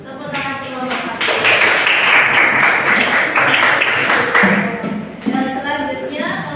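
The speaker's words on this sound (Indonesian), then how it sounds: "Tepuk tangan kelompok 1" Classroom applause for a presenting group, a burst of hand clapping that swells loud and fairly continuous in the middle, with voices talking at the start and end.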